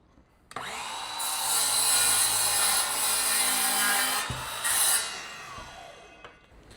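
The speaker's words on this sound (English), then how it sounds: "if we want to keep this piece, we want to cut on the other side of the line." Handsaw cutting through wooden door trim, a close continuous rasping stroke that swells and fades over several seconds, ending in a brief scrape before quiet.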